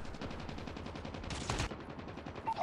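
Rapid automatic gunfire from Call of Duty Mobile, a dense stream of close shots with a brief louder burst near the middle and no talking.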